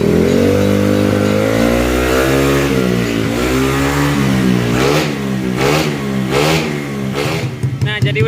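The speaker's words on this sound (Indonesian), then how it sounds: "udah ganti knalpotnya pakai CLD tipe Monster, suaranya lumayan berisik" A Honda Beat 150cc scooter fitted with a CLD Monster aftermarket exhaust revs up and down close by, loud rising and falling engine drone that turns choppy near the end, with a voice talking briefly over it.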